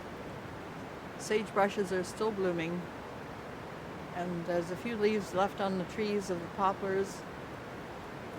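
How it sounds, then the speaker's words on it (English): A river in Farwell Canyon, near a cabin and root cellar among sagebrush and poplars on a chilly day, makes a steady, soft broadband rush in the background while someone talks over it throughout. "You can probably hear the river in the background."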